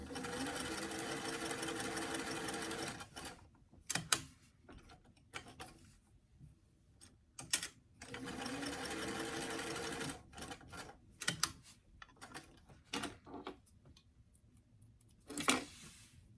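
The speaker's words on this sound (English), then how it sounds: "take just a couple of back stitches just to secure that seam, and then finish with the neck collar" A sewing machine stitches a doll dress seam in several loud running bursts separated by pauses, with short back-stitch runs and quieter handling noises in between; no one speaks.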